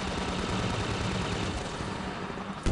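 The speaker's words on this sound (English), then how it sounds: "I have a rocket launcher. I'm gonna launch so many rockets." Rocket launcher fire in Half-Life 2 sounds as a dense, continuous roar of explosive blasts and rumble that holds loud for nearly three seconds, with no talk over it and a sharp burst right at the end.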